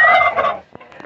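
Turkeys on a Brazilian poultry farm gobble, one loud close rattling gobble burst followed by softer short clucks and calls.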